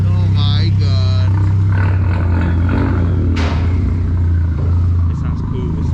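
Volkswagen MK4 GTI 20th Anniversary Edition with a new exhaust, idling with a deep steady rumble close by and a sharp rev near the middle, while people talk over it.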